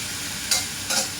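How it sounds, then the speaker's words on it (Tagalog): Chicken breast sizzles in a pan with a steady hiss, punctuated by two brief scraping stirs of a utensil, close and clear with no talking. "medyo naluluto na yung chicken natin, breast chicken"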